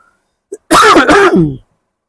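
A man gives one short, loud, close throat-clearing cough, a harsh rasping burst after a brief tick, then silence.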